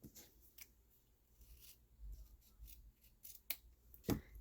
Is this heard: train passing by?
no